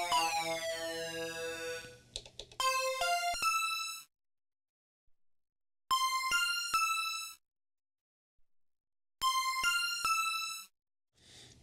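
A Nord Lead synthesizer playing a laser harp patch gives bright, resonant plucked notes with sweeping tone, heard in three separate bursts of rapid notes divided by silent gaps.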